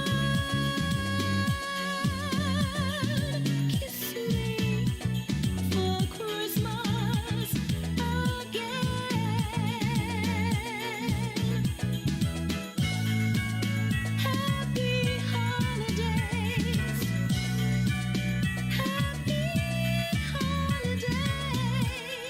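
A Christmas medley plays loudly and continuously on radio, with full instrumental backing and a bright, busy melody throughout.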